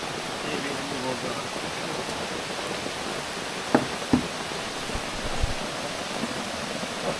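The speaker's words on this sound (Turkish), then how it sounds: "Üstte yağmur yağıyor." Steady rain pattering on the roof overhead, a continuous soft hiss with a few louder knocks and taps mixed in, near Canikdere Waterfall in Tonya.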